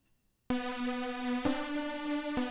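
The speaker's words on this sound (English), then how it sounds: "Was it the detuned super saw?" After a short silence, a thick buzzy detuned supersaw synth chord sustains steadily, re-struck twice, bright and wide with no voices.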